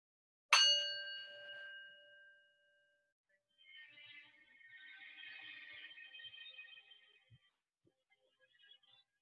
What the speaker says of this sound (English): please bring your attention to the sound of the bell and follow the bell until it drifts